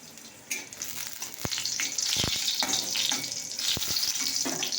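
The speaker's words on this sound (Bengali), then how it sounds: "রসুন আর ভাজা হচ্ছে" Steady hiss of garlic frying in hot oil, with a few sharp clinks and scrapes of a utensil against the pan.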